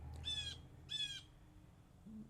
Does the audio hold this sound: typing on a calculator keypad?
no